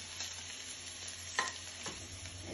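Onion and green chili frying with vegetables for a navaratna biryani, a faint, steady sizzle with a couple of brief stirring scrapes, quiet and close with no talk.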